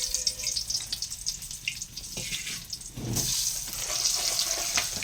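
Chili bhajiya fritters frying in deep hot oil give a soft, continuous bubbling sizzle that swells louder in the second half, heard up close with no speech.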